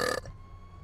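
A short, loud burp in a GTA V roleplay, lasting about a fifth of a second and then cut off abruptly into quiet background.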